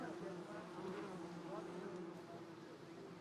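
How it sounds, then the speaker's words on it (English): Large bees buzz in a steady, droning hum close by, with no pauses and no clear voices over it. "Look at the size of these bees."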